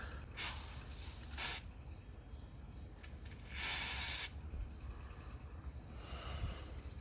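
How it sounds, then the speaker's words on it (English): PB Blaster penetrating oil is sprayed from an aerosol can onto an engine mount bolt of a Toyota MR2 with a 4AGE engine, in three short hissing bursts, the last about a second long, over quiet garage ambience. "And then I gotta spray some PB Blaster in there."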